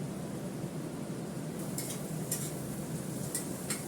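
Onion frying in a pan with cumin seeds, a soft even sizzle under a low background hum, with a few light clinks of a utensil against the pan near the end.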